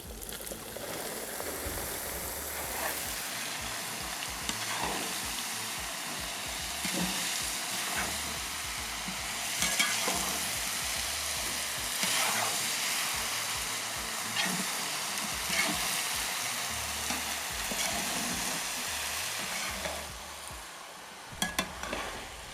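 Zucchini frying in a pan for squash caviar, with black pepper added, a steady close sizzle broken by scraping stirs that run throughout, no talking.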